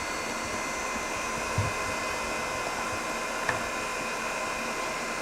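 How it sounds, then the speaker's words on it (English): A small air blower pushes air through a hydrogen fuel cell, giving a steady, even whoosh of hissing airflow with no break and only a couple of tiny clicks. "Press to run the air blower, which blows air through the fuel cell."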